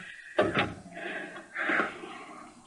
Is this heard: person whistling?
no